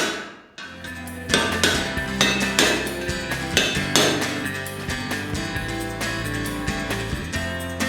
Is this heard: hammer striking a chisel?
yes